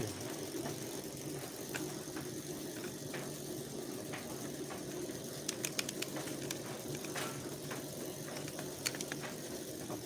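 A Denpoo clothes dryer runs on a two-tub washing machine timer, giving off a steady, moderately loud mechanical drone. Faint ticks and clicks sit over the hum, and there is no speech.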